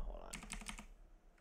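A quick burst of keystrokes on a computer keyboard, about half a dozen clicks in rapid succession, close and soft, with a voice talking around them.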